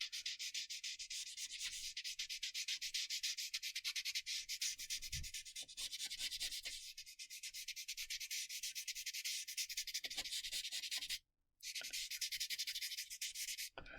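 Pointed eraser rubbing on paper while shading a pencil portrait, making a quiet, continuous fine scratchy scrubbing with rapid back-and-forth strokes and one brief pause, close up with no talking.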